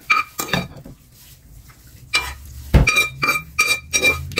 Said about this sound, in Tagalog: lagyan natin dito sa ating pinggan ng ating noodles o yung ating Japanese noodles.